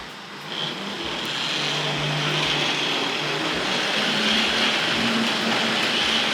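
A Hornby model train locomotive rolls into a station on a layout, a steady whirring, rumbling motor and wheel noise that builds and holds for several seconds, close and moderately loud, with no talking.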